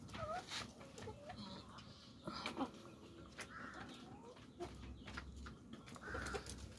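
Layer hens in a backyard setup of 24 cages cluck and call intermittently, with scattered short squawks at close range over low steady background noise.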